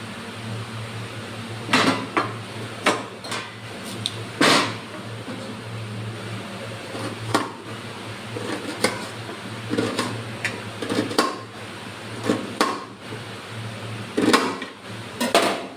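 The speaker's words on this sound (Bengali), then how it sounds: "পেঁয়াজগুলো প্রথমে পাতলা পাতলা করে কেটে নেবো একদম" Knife thinly slicing onions on a board, irregular taps and knocks repeating over a steady low fan hum, close by with no talk.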